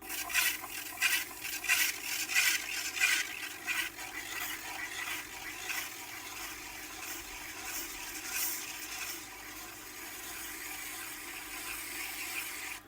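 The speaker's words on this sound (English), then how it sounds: "So what I do is I just grab an old knife and I scrape it off." An old knife scraping residue off a leather honing wheel on a Tormek sharpener, with quick rhythmic rasping strokes up close that settle into a continuous low scraping drone.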